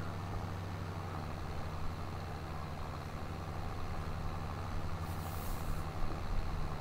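A farm tractor drives across an old planted crop field in Iowa, its engine a steady, continuous drone with a low hum throughout, close and unbroken.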